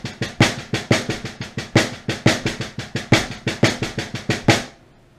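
Accented 16th notes played hand to hand on a drum using the Moeller technique, a fast, even stream of sharp close strikes with louder accents, ending in a short decay.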